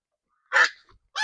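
Geese honk on a farm where turkeys are also kept, one loud harsh call followed by a short faint note, then another strong honk after a moment of silence.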